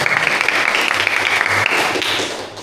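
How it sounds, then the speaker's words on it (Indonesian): Students clap together in applause at a school assembly, a dense, steady patter of many hands close by that tapers off slightly toward the end. "Tepuk tangan dulu untuk kita semua."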